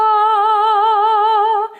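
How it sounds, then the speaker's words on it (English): A solo voice sings and holds a steady A above middle C, a clear sustained tone with gentle vibrato lasting under two seconds before it cuts off. "My vocal folds are vibrating 440 times per second as I sing that pitch."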